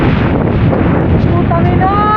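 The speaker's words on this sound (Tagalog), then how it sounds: "sobrang lakas ng hangin, nasira yung payong ko" Strong wind during a rainy lure-fishing trip buffets the microphone with a loud, constant roaring rush. A voice rises faintly near the end.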